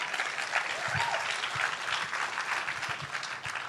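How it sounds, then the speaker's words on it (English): An audience at a talk in Hot Springs Village claps for a championship track and field team, a fairly soft, steady patter of many hands that lasts throughout. "You can clap for that."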